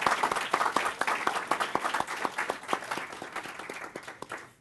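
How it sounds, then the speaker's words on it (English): A panel conference audience gives a round of applause, a moderate burst of individual claps that is dense at first, then thins out and fades toward the end. "maybe we could give our panelists one round of applause and thanks for all these astonishing presentations"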